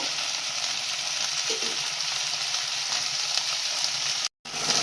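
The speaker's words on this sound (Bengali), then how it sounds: "এইভাবে আমি ঢেঁড়সটাকে কিন্তু পেঁয়াজের সাথেই ভাজবো।" Okra frying with onions in a pan gives a steady, close sizzle that runs continuously and alone, with one brief dropout near the end.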